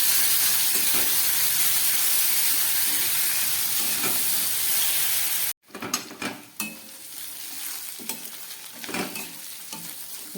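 Cumin, ginger and green chilli paste fries in a pan for a light fish curry, a dense loud sizzle for about half the clip, then a sharp break into clattering stirring with spoon-on-pan knocks and softer frying.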